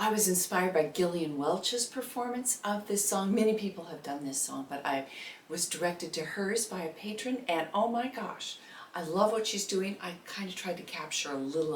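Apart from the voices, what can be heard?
No distinct noise like a dog, phone or traffic.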